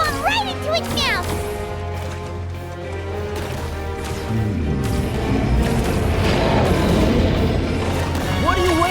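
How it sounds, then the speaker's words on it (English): A bomb thrown into a creature's mouth in Genshin Impact goes off as a rolling, crackling boom beneath game music and a character's excited voice, the blast swelling into a loud, sustained rumble through the second half. "Throw the bomb right into its mouth!"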